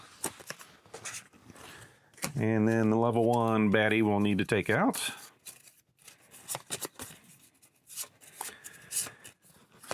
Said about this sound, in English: Give that a shuffle.